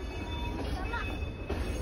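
A train rumbles past close by with a steady low roar and a faint metallic squeal over the top.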